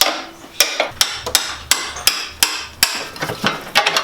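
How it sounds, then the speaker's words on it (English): Sharp, metallic hammer blows on a Subaru BRZ car part during a header install, in a fairly regular rhythm, about a dozen hits in quick succession, close and loud. "This needs some of Daddy's hammer."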